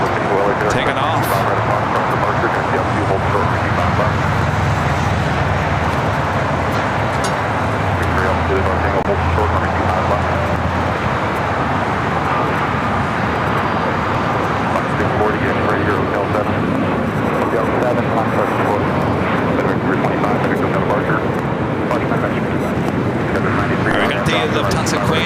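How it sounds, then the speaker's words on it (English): A Learjet 60 takes off at LAX with a loud, steady jet roar that holds for the whole stretch, with people talking over it. "How about Lear Jet 60 taking off?"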